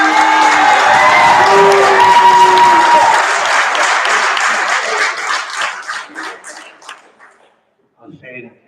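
An audience at a Long Beach school board meeting claps and cheers loudly, with voices mixed in. The applause thins out and dies away, leaving near-silence and then a brief murmur at the end.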